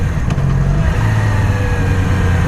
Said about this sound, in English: Very good engine braking there.